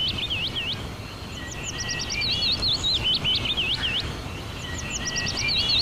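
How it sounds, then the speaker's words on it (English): Several birds chirping outside, with bright repeated tweets and short warbling phrases in quick bursts, close and clear over a soft steady background hiss. "Why do I hear birds all of a sudden?"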